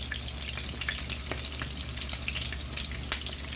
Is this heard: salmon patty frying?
yes